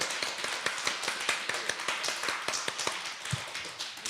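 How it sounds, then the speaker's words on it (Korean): A church congregation claps loudly in unison, sharp rapid palm claps in a steady quick rhythm for several seconds, close and crisp, with no voices. "오늘은 손바닥으로 크게 한번 큰 소리 나게끔 우리 한 10초 동안만 하나님 앞에 큰 박수로 한번 찬양할까요?"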